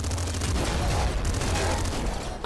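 Hyper rifle from the video game Nuclear Throne firing continuously with the trigger held down, a loud, dense, unbroken stream of rapid shots lasting the whole moment.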